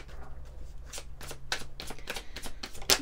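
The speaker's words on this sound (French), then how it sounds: "Allez, on va prendre quelques cartes" Tarot cards shuffled by hand in a quiet room, giving a series of soft, crisp riffling bursts at irregular intervals, with a sharper snap near the end.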